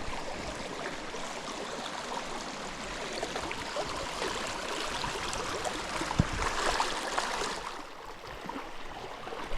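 A Georgia mountain creek flows over rocks in a steady, broad rushing wash, fairly close and even, easing slightly toward the end.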